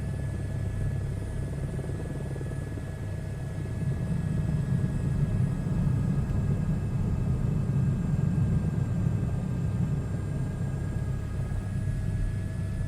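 Simulated helicopter rotor and engine in a VR flight game, a steady low rumbling drone with faint sustained whine tones above it, constant throughout with no voices.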